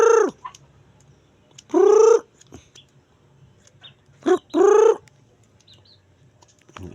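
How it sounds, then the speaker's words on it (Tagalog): Domestic chickens call close by: a few loud, drawn-out squawking crows or clucks in separate bursts, with quiet gaps and faint talk between them. "Ating manok."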